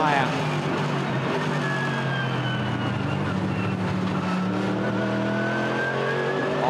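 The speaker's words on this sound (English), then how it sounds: "He's got no control of this race car." A GT race car on the Watkins Glen circuit accelerates with a steady, loud engine drone that rises in pitch, heard continuously with a broadcast commentator talking over it.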